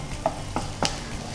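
Stirring in a frying pan while cooking chicken green masala, three short scraping strokes over a low steady sizzle, close and clear with no voices.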